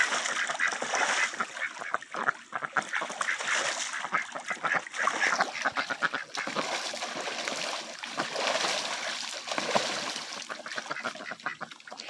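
Ducks splash and flap in water in a duck house, with steady broadband spattering, occasional quacks and honks mixed in, close and continuous throughout.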